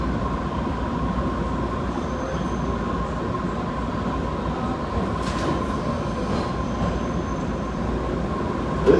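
An MBTA Red Line subway train runs near Ashmont, a steady loud rumble of wheels on rail with a sustained tonal whine and faint squeals, heard from inside the car.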